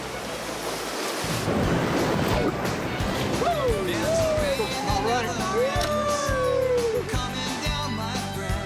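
A canoe going over a drop on the Teshio River, a wide wilderness river in Hokkaido, with loud rushing water and wind buffeting the microphone while voices call out over the churn.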